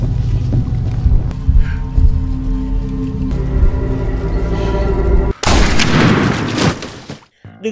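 Gunshot in a dramatic film scene, a sudden loud broadband blast near the end that cuts through a dense, rumbling soundtrack with brief near silence after.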